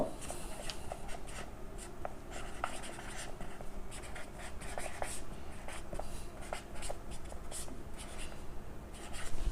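A pen scratches out a physics formula on paper, a close, continuous run of short strokes and taps with no voice over it.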